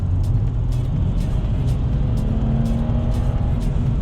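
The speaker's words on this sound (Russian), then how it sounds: "вот дай газу в пол так просто." A BMW E92 accelerates at full throttle, its engine a loud, steady low drone heard from inside the car, with the pitch creeping slowly upward as speed builds.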